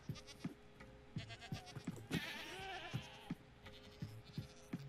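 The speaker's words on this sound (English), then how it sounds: "I think one of them was a screaming goat." A Minecraft screaming goat bleats repeatedly in short, wavering cries, one rising into a loud, strained scream-like bleat midway, with small thuds and footsteps around it.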